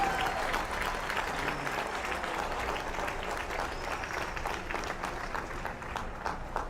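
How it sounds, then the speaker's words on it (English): Steady, dense applause from a crowd greets the 2021 senior class at a college swim meet, a sustained wash of clapping at moderate distance with no break. "give a round of applause for your 2021 senior class in the MIAA"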